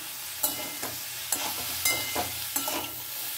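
Chopped tomato is stirred into broccoli frying in a pan: a soft sizzle underneath with regular scraping strokes of a spatula, roughly one every half second, close by and with no voices.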